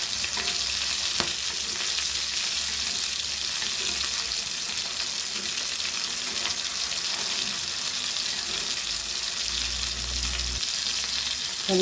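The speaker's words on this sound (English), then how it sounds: "Oil is hot. Let's do a tawa fry." Silver pomfret tawa frying in hot oil in a Goan home kitchen, a steady, loud, close sizzle and crackle that runs unbroken throughout, with faint low thumps of handling beneath.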